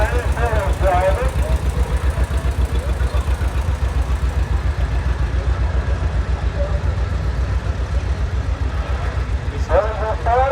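A vintage tractor engine runs close by in a parade at a flywheelers show, a loud, steady pulsing chug throughout, while an announcer talks over it at the start and end.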